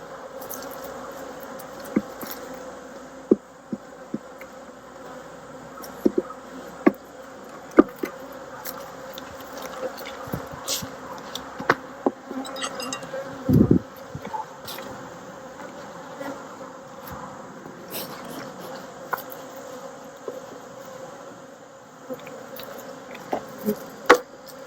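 Honeybees swarm and buzz steadily around a hive during robbing season in autumn in Tennessee, a continuous close insect drone with scattered louder passes and a few soft knocks.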